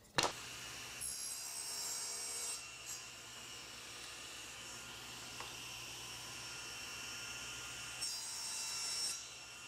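Wood pieces cut to an eight-inch length against a stop block in a woodshop, giving a few close, rasping cutting passes with brief pauses between them over a steady background hum.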